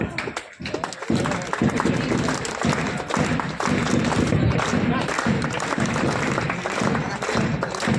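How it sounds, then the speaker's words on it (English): An audience at a school's annual sports meet breaks into dense, continuous applause, clapping steadily for several seconds with a few thuds mixed in. "Please give a huge round of applause."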